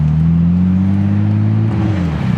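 A Nissan R32 Skyline GTS-T with a GTR conversion and a new exhaust idles close by, giving a steady, loud, low burble with an even rumble that wavers slightly near the end.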